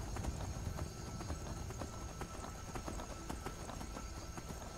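A horse gallops in Skyrim. The hooves make a soft, rapid, rhythmic clip-clop over a steady hiss, faint and continuous.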